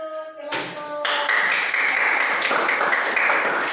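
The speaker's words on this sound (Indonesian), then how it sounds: "Beri aplaus untuk kelompok." Classroom applause for a presenting group, a burst of clapping from many hands that starts abruptly after a short tone and continues steadily and loud to the end.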